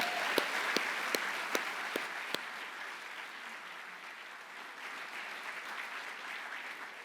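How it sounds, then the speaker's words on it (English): A commencement ceremony audience breaks into a sustained round of applause, steady broadband clapping filling the hall and holding evenly throughout, with a few sharper isolated claps standing out near the start. "we can give them a round of applause for that"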